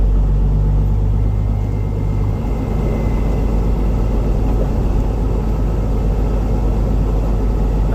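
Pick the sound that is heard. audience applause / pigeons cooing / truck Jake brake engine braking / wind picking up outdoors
truck Jake brake engine braking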